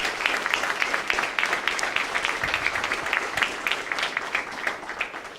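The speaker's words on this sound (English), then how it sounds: "just going to do a round of applause for our RAs and CAs here on campus and all their hard work" A crowd applauding at a university awards ceremony, dense sustained clapping from many hands filling the room at an even level throughout.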